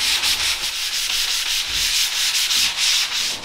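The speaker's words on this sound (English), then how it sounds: "I got some 240 and some 400 laying around, so I'm just gonna hit it by hand with that." A maple slab for a live-edge countertop being hand sanded with 240 and 400 grit sandpaper, with loud, rhythmic back-and-forth rasping strokes close up, no voices.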